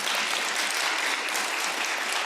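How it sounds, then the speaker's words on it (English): An audience at a Rotary Club economic forum luncheon claps together in a dense, even burst of applause, sustained and fairly loud across the whole moment. "Let's give them a round of applause."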